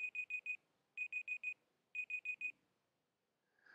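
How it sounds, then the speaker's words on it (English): A digital timer alarm goes off with three bursts of four quick, clear beeps, followed by near silence. "there's a timer right there."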